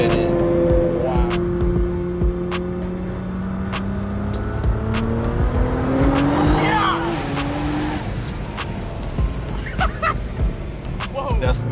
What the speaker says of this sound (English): This is the most insane car I think I've ever seen or been in.